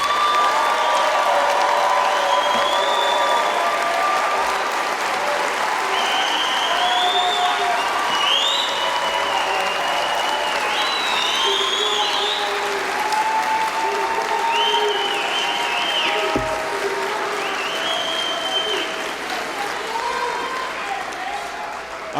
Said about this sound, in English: Would you please give your hand a round of applause to class 272?